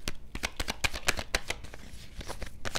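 Tarot cards are shuffled and drawn in quick, crisp flicks and slaps, an uneven rapid rhythm of close, soft card snaps with no talk.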